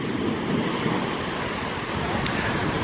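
Stormy sea surf churns at a Caribbean beach resort while strong wind buffets the microphone, making a steady loud roar with no breaks.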